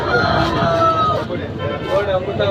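A tall rooster, about three kilograms, crowing loudly at a Sunday livestock market in Rayachoti, a single drawn-out crow close by with market noise around it.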